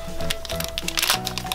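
A plastic toy package holding a mini doll is cut open close by, giving crackling, crinkling snips in a quick irregular rhythm, with faint tones in the background.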